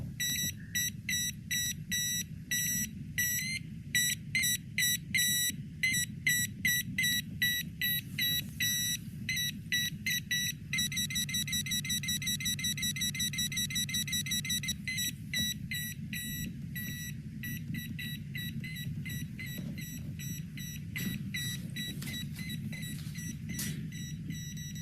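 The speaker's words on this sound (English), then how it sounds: "recently I connected up a buzzer circuit that could make some random sounds" A small homemade buzzer circuit powered by five cells sputters out rapid, irregular electronic beeps and chirps. Bursts change in rhythm and speed, then give way to a steadier, fainter buzz toward the end.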